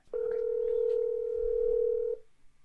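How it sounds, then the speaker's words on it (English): A single long steady ringback tone from a phone call on speakerphone, one unbroken two-second ring sounding close and clear with no talk over it. "It's ringing."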